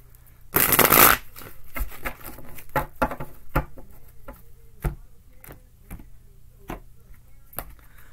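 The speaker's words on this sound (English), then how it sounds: "One more good shuffle." Tarot deck shuffled by hand: a loud riffling burst near the start, then a series of crisp taps and card slaps at irregular intervals, close and clear with no talking.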